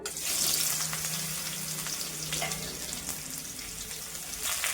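Sliced pointed gourd (potol), about 250 grams cut into quarters, fries in hot oil with salt, giving a steady close sizzle with faint clinks and no talk.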